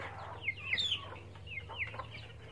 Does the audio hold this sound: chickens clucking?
yes